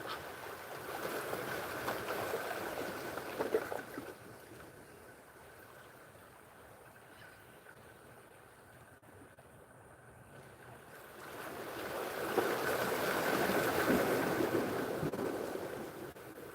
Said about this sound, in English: Y'all can hear the water in the background?